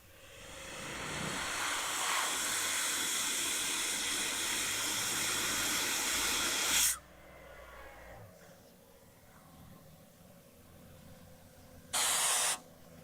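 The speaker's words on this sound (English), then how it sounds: "the nice thing with the valve is you can vary the amount of airflow that comes out of it" Compressed air hisses loudly and steadily from a ROCK-X valve for about six seconds before cutting off, followed by a quieter pause and then a second short, sharp burst of air.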